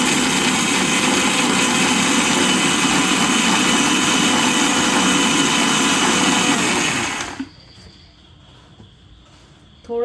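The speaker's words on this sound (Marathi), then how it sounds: "आता हे मी मिक्सर लावून" A mixer grinder whirs loudly and steadily for several seconds, then cuts off abruptly, leaving near silence.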